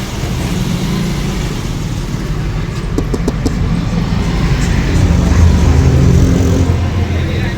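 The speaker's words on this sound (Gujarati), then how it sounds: "ગાડી ચાલુ રાખીને કેમ બેઠા છો તમે" Karamsad-Anand municipal corporation car sitting with its engine and air conditioning running in cold weather: a steady, close low rumble that swells slightly midway, with a few faint clicks and no clear speech.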